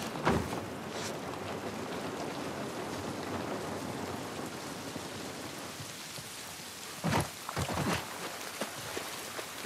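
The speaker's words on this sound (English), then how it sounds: "This rain ain't gonna do us any good." Steady rain pours throughout a scene in the video game The Last of Us Part I, a constant soft hiss with a few sharper thumps and splashes.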